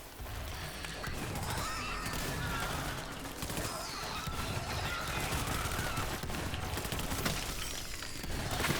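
Rapid burst-fire gunshots from a weapon in Borderlands 3 rattle almost continuously, loud and close, mixed with busy game effects and no clear talking.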